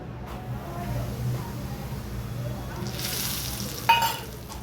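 Sooji roasting in hot ghee over a low flame gives a soft, steady sizzle, with a brief clatter near the end as the semolina is stirred in the pan.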